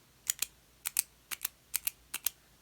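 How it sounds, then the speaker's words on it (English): Parker Jotter stainless steel pen clicked repeatedly, five pairs of sharp, loud plastic-metal clicks in a steady rhythm, each push followed quickly by its release, close up with no talk. "If you just click this guy,"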